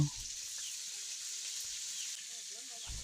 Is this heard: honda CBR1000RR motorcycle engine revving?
no